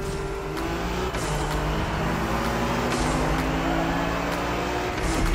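Honda NSX driving in The Crew Motorfest, a steady loud engine hum with road roar holding throughout, a few rising tones sweeping through the mix and faint whooshes of other cars passing nearby.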